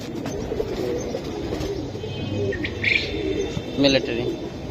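Military pigeons at a pigeon seller's coo softly in low murmuring phrases, with a couple of brighter chirps and a faint background hiss.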